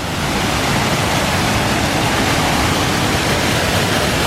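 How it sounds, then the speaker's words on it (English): A small waterfall pours over a man-made dam on a creek, a loud, continuous broadband rush of falling water heard close by without interruption. "It looks like there's a little waterfall or something over on the creek."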